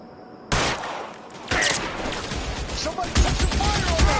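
Gunfire during a police shootout in the video game L.A. Noire: several sudden loud bursts of shots and clatter over a noisy background.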